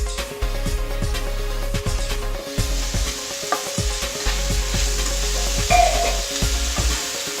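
A spoon or spatula scrapes and stirs cabbage and besan sabzi in a pan with rhythmic strokes over a steady sizzle of frying.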